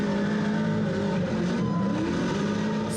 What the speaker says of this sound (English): got a chance to buckle up as a passenger in a drift car